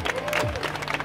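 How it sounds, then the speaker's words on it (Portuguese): A crowd claps and cheers in a brief, dense burst of applause at a rap battle, loud and close, with voices mixed in. "Palmas pra batalha, família."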